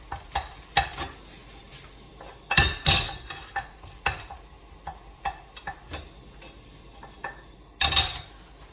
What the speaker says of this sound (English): And then just give that a good mix about.